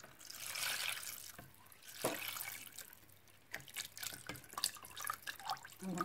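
Orange liqueur poured gently from a bottle into a larger jug, a soft uneven trickle and splash of liquid with intermittent drips, close and fairly quiet.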